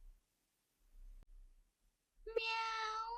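A single cat meow from an animated cartoon, drawn out and falling slightly in pitch, comes close and clear near the end after a stretch of near silence and faint low rumbles.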